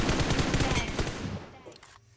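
Rapid gunfire in a PUBG match, dense bursts of automatic shots close and loud for the first second and a half, then thinning out and fading toward the end.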